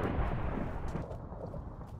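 Thunder rumbling during a thunderstorm in Minecraft, a loud, continuous low booming roll that fades slightly over two seconds, with no talking over it.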